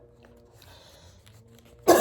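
A single sharp, loud cough bursts out at the very end after near silence, brought on by dust from dry erase markers in a classroom-style setting.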